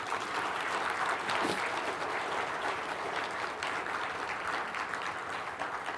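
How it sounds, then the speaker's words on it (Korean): An audience at an award ceremony applauds, a dense, even wash of clapping that holds steady for several seconds without talk. "한번 박수 보내주실까요?"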